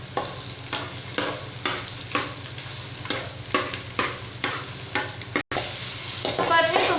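Egg and goat brain frying together in a pan, stirred with a spatula in a steady rhythm of scraping strokes over a constant close sizzle, with no talking.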